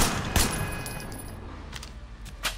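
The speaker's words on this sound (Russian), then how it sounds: "А кто это стреляет?" Gunfire in the video game Sleeping Dogs, heard as a few scattered, fairly distant shots. They stand out against a steady background hum, with no talking.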